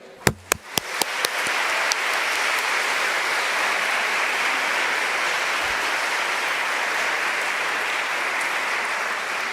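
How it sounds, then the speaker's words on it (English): A few separate claps open, then a room of guests at the NYJL annual meeting breaks into sustained, even applause that carries on at a steady level. "Please join me in a rousing round of applause to thank each and every committee for their"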